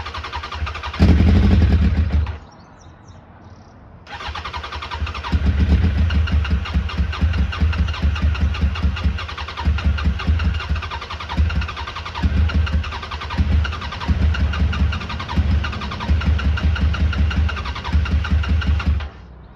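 A Suzuki Bandit 1200 motorcycle engine on full choke cranks over, catches briefly, dies, then starts and runs with a loud, steady, slightly uneven idle close by.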